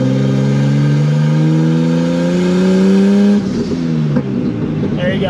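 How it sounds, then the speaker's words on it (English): Turbocharged widebody BMW E30 pulling hard out of a corner in first gear, loud rising engine note climbing steadily for about three seconds, then a shift with choppy revs and turbo whoosh, close and prominent with no talk. "as she makes all the fun turbo noises"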